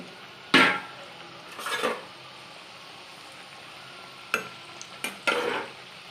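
Thekua, a sweet wheat-flour snack made for Chhath Puja, frying in oil while a utensil turns it, giving a few short bursts of stirring and sizzling with quiet gaps between them, close by and with no voices.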